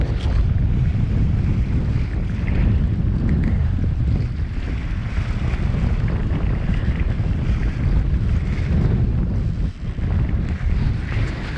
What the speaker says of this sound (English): Good sized waves.